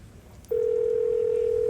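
A telephone line gives a steady, unbroken electronic tone that begins abruptly after about half a second and holds loud and constant to the end, with no one speaking.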